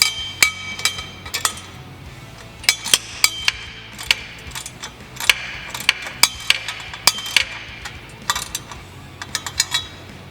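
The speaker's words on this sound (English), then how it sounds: "I like to use this wobble style socket, just makes it a little bit easier." A wobble-style socket ratchet snugs down pipe flange bolts during an LS swap, with quick metallic clicks and clinks in irregular bunches close by over a faint background hum.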